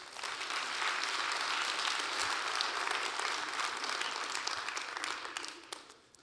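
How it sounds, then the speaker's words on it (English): A church congregation claps together in a sustained burst of applause that swells quickly, holds steady for several seconds, then trails off near the end. "Somebody give the Lord a hand clap."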